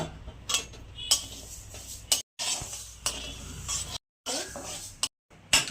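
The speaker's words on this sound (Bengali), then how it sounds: "মুগ ডালটাকে ভেজে নেব" Mung dal dry-roasting in a pan, stirred so the grains scrape and rattle in short bursts with brief silent gaps, fairly close and moderately loud, with no voices.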